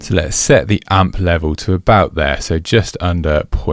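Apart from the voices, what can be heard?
No everyday noise stands out behind the speech.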